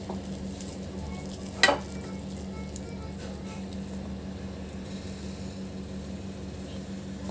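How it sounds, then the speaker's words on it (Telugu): Potato bajji batter being stirred with added water, a steady wet mixing and squelching texture with one brief sharp knock near the start, continuing evenly without speech. "ఇప్పుడు మనము వాటర్ వేసుకొని కలుపుకుందాము"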